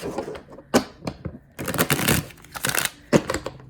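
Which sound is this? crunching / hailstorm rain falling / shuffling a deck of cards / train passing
shuffling a deck of cards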